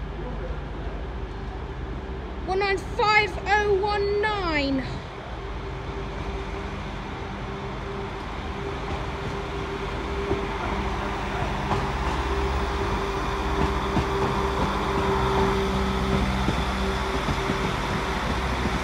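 A Northern train departs a platform at Sheffield station, heard as a low, steady rumble with a faint tonal hum. Early on, a brief rising chime-like sound rings out, then the engine noise gradually swells in the background.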